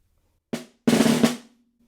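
A snare drum plays one beat of an all-region etude: a soft single stroke, then a buzzed roll into the downbeat that jumps in volume, close and alone with a faint ringing tone after.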